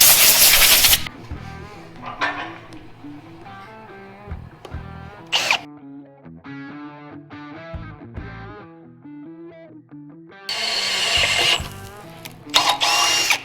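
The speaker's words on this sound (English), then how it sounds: "now we gotta drill a hole in that cover and tap it before it comes" A power drill bores a hole in a differential cover on a rock crawler build, with bursts of high whining cutting at the start and end around quieter mechanical clatter and tapping in between.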